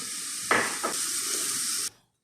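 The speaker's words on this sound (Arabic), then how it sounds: "الحين أول ما بدأ يتحمر معايا البصل زي ما انتوا شايفين" Onions frying in olive oil and butter in a pan, a steady close hiss of sizzling with a couple of brief stirring scrapes, stopping abruptly near the end.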